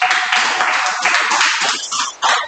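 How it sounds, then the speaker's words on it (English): A class applauds a student in a classroom, with steady, dense clapping from a group that lasts a couple of seconds and then breaks off briefly before one last flurry. "give her a clap"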